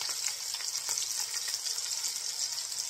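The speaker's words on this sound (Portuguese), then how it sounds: "Vou pôr fritar o bacon." Bacon fries in hot oil in a pan for a feijoada, giving a steady, bright crackling sizzle with small popping spits. The sizzle stays close and even, with no one talking.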